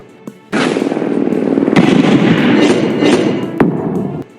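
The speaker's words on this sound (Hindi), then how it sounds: "स्टेडियम के ऊपर जाते ही मेहुल हैंड ग्रेनेड फेंकने लगता है।" Hand grenade explosions in an animated action story come as a loud, sustained barrage of rapid blasts that rattles on for several seconds before cutting off, with a sharp crack just before the end.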